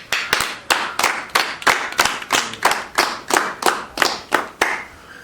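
A church congregation claps to welcome their pastor: about a dozen sharp, evenly spaced claps at a steady rhythm, loud and close, with no talking.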